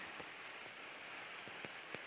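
Faint, steady typhoon rain pattering on a surface at a house, with a few scattered louder drops, heard alone without voices.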